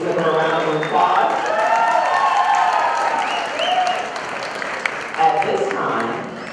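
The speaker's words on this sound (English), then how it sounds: "please give her a round of applause" A crowd applauds at a high school graduation ceremony in Buffalo, New York, with steady sustained clapping and some cheering filling a large hall throughout.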